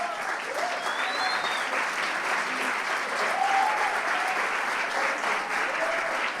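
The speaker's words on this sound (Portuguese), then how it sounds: "Olha aí, vai aplaudindo" A church congregation applauds during a celebration service, a continuous dense crowd clapping that holds steady and fairly loud throughout, with faint voices mixed in.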